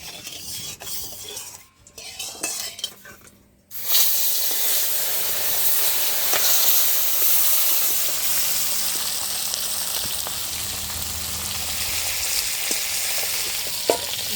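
Fresh Japanese puti and tilapia fish fry in hot oil, giving a loud, steady, dense sizzle that begins abruptly after a few seconds of quieter handling noises and continues close up.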